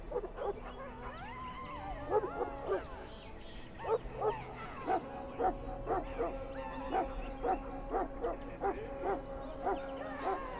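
A Mabari war hound in the Dragon Age: Origins video game barks repeatedly in a steady rhythm of sharp woofs, with whimpers and yips early on, while a voice talks underneath.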